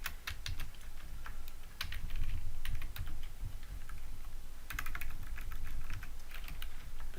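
Steady typing of code on a computer keyboard, with dense clusters of key clicks in two bursts and a constant low hum underneath, close and moderately loud, with no voices.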